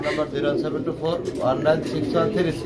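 Pigeons kept for sale coo in soft, repeated throaty bursts close by, mixed with people speaking.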